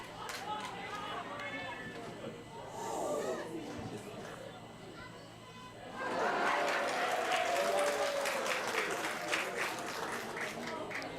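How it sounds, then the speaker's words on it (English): Scattered crowd clapping at a women's football match between Partick Thistle Women and Glasgow City, distant and thin at first, then swelling into broader applause from the stands while a commentator talks over it. "It's clapping, I don't know why."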